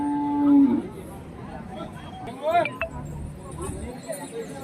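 Bulls low and moo at Hirapur cattle market, one loud close call early on, with people talking nearby.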